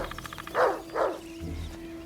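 A dog gives two quick barks in close succession, moderately faint, over a steady faint background hum with no talking.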